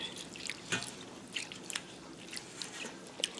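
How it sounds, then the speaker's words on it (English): Rice grains scrubbed by hand in a bowl of water, giving soft wet squishing and small dripping splashes, with brief faint sloshes spread irregularly and close by. "I'll just show you how I scrub at my rice when I'm washing it."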